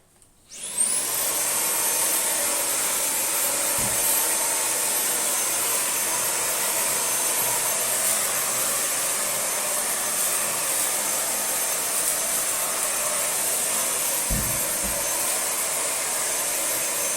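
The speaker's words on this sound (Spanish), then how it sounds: "Ahora voy a pasar el armario con el cepillo especial de cerdas para superficies delicadas." A Xiaomi Jimmy H9 Pro cordless vacuum with a bristle brush cleaning a wardrobe: the motor spins up quickly into a steady high-pitched whine, loud and close, with a couple of soft knocks of the brush against the wood.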